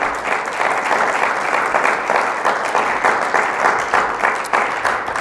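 A church congregation applauds, dense sustained clapping from many hands filling the space at a steady, fairly loud level with slight surges, no voices above it.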